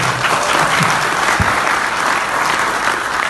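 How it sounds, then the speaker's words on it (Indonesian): A crowd claps at an Indonesian product sales presentation, producing a continuous, even burst of applause that fills the whole stretch, with a single sharper thump partway through. "Kalau tepuk tangan jangan sendirian Pak, kasih teman-teman ya."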